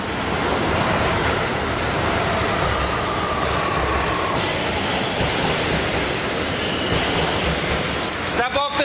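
A New York City subway train bound for Brooklyn roars steadily at close range, a dense wash of rumble that runs throughout, with faint squeals and a burst of sharp metallic screeching at the end.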